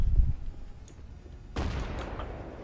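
A rocket launcher explosion in Garry's Mod, a short sharp blast followed by a second heavier boom about a second later, loud and close with no talk.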